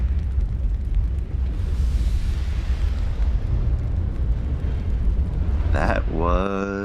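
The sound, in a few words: ship magazine explosion in the video game Ultimate Admiral: Dreadnoughts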